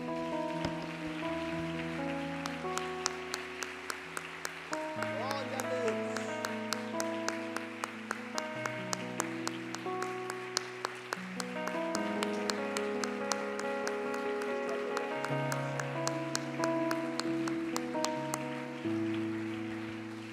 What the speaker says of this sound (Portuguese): Vamos aplaudir Jesus, vamos lá, vamos lá.